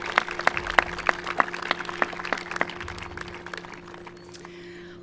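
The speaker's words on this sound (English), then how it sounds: "One more round of applause for Meg Kissinger." Scattered claps ring out at a school commencement, a sparse round of applause with distinct sharp hand claps over a steady electrical hum, fading off toward the end.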